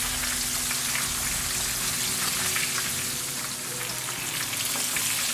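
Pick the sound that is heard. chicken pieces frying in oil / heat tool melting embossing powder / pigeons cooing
chicken pieces frying in oil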